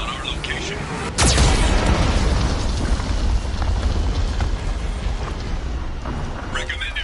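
In the Mass Effect 2 video game, a Geth cannon fires, giving a sudden loud boom that settles into a sustained roaring rumble of explosions and debris. The blast is close and heavy and goes on for several seconds.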